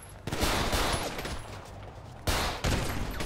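Rapid bursts of gunfire from a GTA 5 roleplay shootout crack out in two loud volleys, the first sustained and the second coming after a short lull, with no talk over them.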